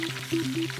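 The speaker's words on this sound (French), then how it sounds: "On finit de compoter le tout avec du vinaigre à feu doux pendant 2 ou 3 minutes." Onions cooked with honey and vinegar sizzle gently in a pan over low heat, a close and continuous hiss with a faint steady hum beneath it and no talk.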